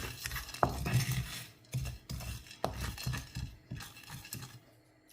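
Peppercorns roasting in a dry pan for a non-veg kuzhambu, with repeated scraping and clinking strokes of a spoon against the metal, light rattling in between, close and moderately loud, no talking.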